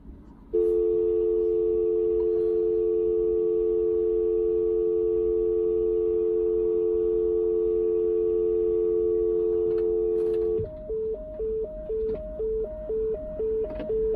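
A telephone busy signal, first a steady loud tone held for about ten seconds, then switching to a regular on-off beeping pattern, clear and up close with no talk over it.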